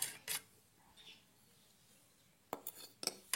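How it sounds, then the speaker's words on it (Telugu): Utensil clinks and scrapes against a bowl while mixing ingredients by hand, a few short clattering bursts separated by quiet stretches, close and fairly soft. "దీన్ని ఇలా మిక్స్ చేసేసుకోవాలి."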